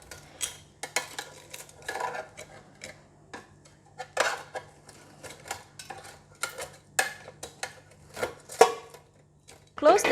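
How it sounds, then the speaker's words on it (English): Metal and plastic clatters and clinks of an air fryer basket being opened and pork ribs being turned, a string of short, sharp handling knocks with gaps between them over a steady low hum. "Open the air fryers and give each of the pork ribs a turn to ensure even cooking on both sides of the pork ribs."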